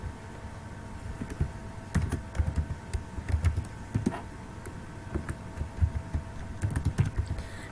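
Steady typing on a computer keyboard while entering fields into an MS Access hospital database, with irregular runs of soft clacking keystrokes close to the microphone and no talking.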